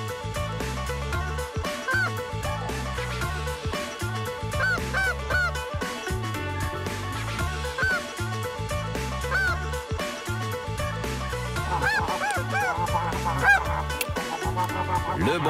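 Snow goose honks during a spring goose hunt repeat over a loud, steady rhythmic music track, the calls scattered throughout and partly masked by the beat.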